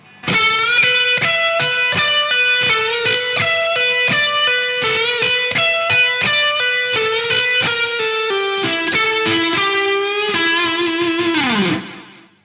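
Overdriven electric guitar plays a pull-off figure followed by a blues lick at a slow, deliberate pace, with clear separate picked notes ringing loudly for about eleven seconds before a final downward bend and abrupt stop.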